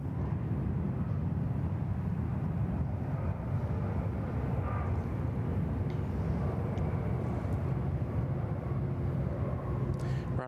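A British Airways Speedbird 15 heavy jet comes in to land on runway 34 left at Sydney Airport, a steady, loud low roar of engines filling the air throughout with no break.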